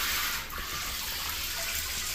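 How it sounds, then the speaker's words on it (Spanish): Tap water runs into a clogged shower drain in a house's bathroom, making a steady, close, hissing rush that carries on without a break. "abrimos el agua y vemos que el drenaje,"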